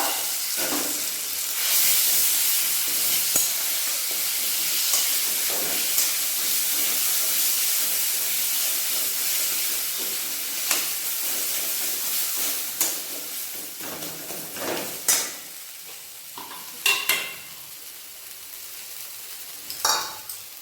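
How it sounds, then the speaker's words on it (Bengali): Ground flat bean paste, mashed with spices, frying in hot oil for a Bengali shim bhorta: steady close hiss and sizzle throughout, with scattered stirring scrapes and sharper spatters toward the end. "এরপর ওই তেলে যে সিমটা বেটে রেখেছিলাম সব কিছু দিয়ে, সেইটা দিয়ে ভালোভাবে ভেজে নেব।"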